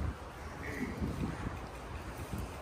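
Wind blows outdoors in Europe, a steady broadband rush with buffeting against the microphone and no clear talking over it.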